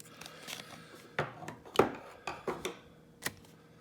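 A Tokoz padlock package being opened: faint crinkling and sharp clicks and snaps of plastic packaging, several quick irregular bursts against a quiet background.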